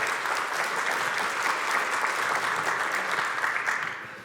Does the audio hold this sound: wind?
no